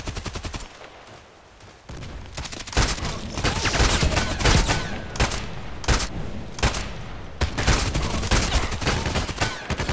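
TKPD Storm carbine fire in the online shooter Contract Wars, heard as repeated loud bursts of shots with brief pauses over a busy game soundscape, no talking.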